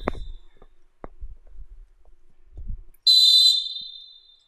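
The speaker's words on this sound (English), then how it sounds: "I'd like to hear a difference in the whistle when it's just a foul and just a penalty kick" A referee's whistle on a football pitch gives one loud, sharp blast that fades over about a second, after a few quiet thuds and faint background sounds.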